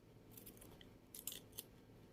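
Scissors snip through tape with a few quiet, crisp cuts clustered near the end, faint against a low background hiss.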